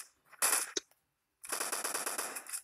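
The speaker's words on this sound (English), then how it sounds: "I'm gonna shoot so he can find us." Gunfire in the mobile battle royale game PUBG Mobile: a short loud burst, a pause, then a fast rattling automatic volley of close shots with no talking.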